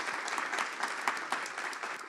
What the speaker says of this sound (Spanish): Pablo, que el aplauso sea extensible también a nuestro gran moderador.